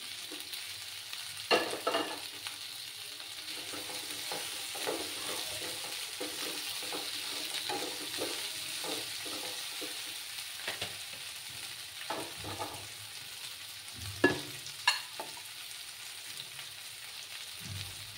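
Tomato, potato and beans sauté steadily in a pan for a Bengali catla fish curry, giving a continuous low sizzle broken by scattered pops and scraping stirs.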